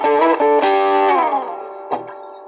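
Yamaha Revstar RSP20 electric guitar on its clean tone, a few bright strummed chords ringing out and decaying, then a softer strum at the end, heard alone.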